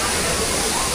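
Waterfall with a drop of about 30 metres, heard as a loud, dense roar of falling water that fills the whole second.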